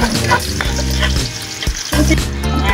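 Garlic sautés in hot cooking oil at the start of a Filipino banana blossom adobo, a loud, continuous close sizzle with no voices.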